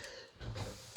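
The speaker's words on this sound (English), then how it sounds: "Cough, cough, cough." A person with asthma gives a short, close cough and throat clearing, a single sharp burst at the end after a faint breathy lead-in.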